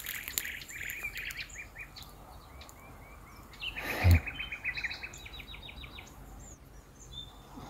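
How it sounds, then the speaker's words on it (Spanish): Birds chirp and sing in short, repeated high calls over a steady outdoor hush, with a brief louder rustle partway through. "escuchando los pájaros cantando"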